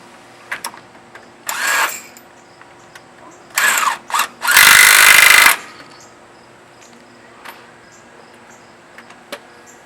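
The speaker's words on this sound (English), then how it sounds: "Tighten up the bolt." A power tool runs in several short bursts while tightening the primary clutch bolt on a vehicle, and the last burst is the longest and loudest, with light clicks and handling noise between the bursts.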